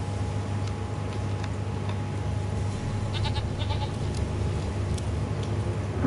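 Goat from The Witcher 3: Wild Hunt, a faint bleat or two over steady game ambience and a low ticking hum, no one speaking.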